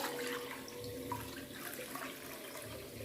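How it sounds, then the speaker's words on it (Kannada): Water pours steadily into a cooking vessel, a continuous splashing stream with no talking. "ಈಗ ಇದೇ ಪಾತ್ರದಲ್ಲೇ ನೀರು ಅಳೆದು ತೋರಿಸ್ತಾ ಇದ್ದೀನಿ"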